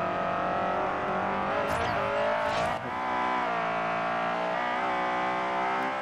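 A Honda CR-X in the Forza Horizon racing game screams along a track, a loud, high-revving engine note that climbs, dips through a quick gear change, then holds a sustained wail.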